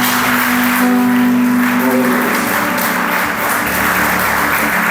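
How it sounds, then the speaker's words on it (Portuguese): Church congregation at a Pentecostal celebration service applauds loudly and steadily throughout, a dense wash of clapping with a sustained organ or keyboard chord underneath at first. "Uma salva de palmas ao nosso Senhor."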